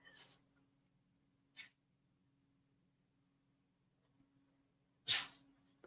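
A pet dog gives a few short, sharp sneezes, three bursts spaced over several seconds, faint and close in an otherwise quiet room with a low steady hum.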